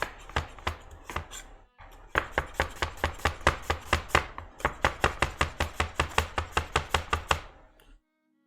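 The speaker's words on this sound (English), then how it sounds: "And these are beautiful onion chopped." A knife chops onion on a board in rapid, even strokes, about two dozen sharp close taps in two runs separated by a brief pause, no talking.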